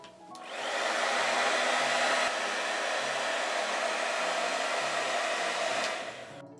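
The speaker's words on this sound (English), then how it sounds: "Hair dryer." A hair dryer blows steadily at close range for about six seconds, a continuous broadband whoosh with a motor hum, starting and stopping abruptly with no talking.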